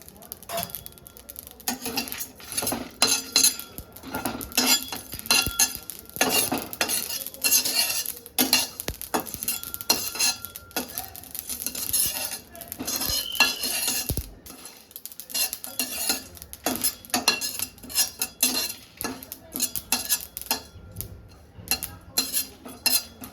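A metal spoon repeatedly scrapes and clatters in a pan while black mustard seeds and curry leaves are stirred, with quick irregular clinks over a faint sizzle in a home kitchen.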